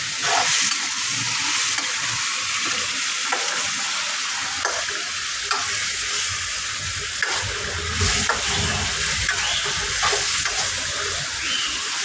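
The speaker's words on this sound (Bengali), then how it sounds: "এবার মাংসের সাথে, মশলার সাথে মাংসটা খুব ভালো করে নাড়াচাড়া দিয়ে বসিয়ে দিলাম" Goat meat stirred with spices in a frying pan sizzles with a steady, close hiss, punctuated by repeated scraping and clinking strokes of a spoon against the pan.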